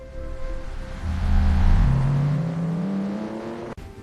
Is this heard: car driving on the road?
yes